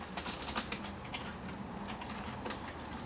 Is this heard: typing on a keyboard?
yes